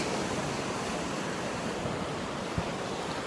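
Sea waves wash steadily onto the shore in a continuous, fairly loud roar of surf, with wind buffeting the microphone and no voices.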